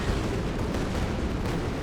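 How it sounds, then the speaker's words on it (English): In the Company of Heroes 2 war game, a Stuka dive-bomber's bomb strike lands with a deep rumbling blast that rolls on steadily for the whole short stretch. "Stuka bomb coming in."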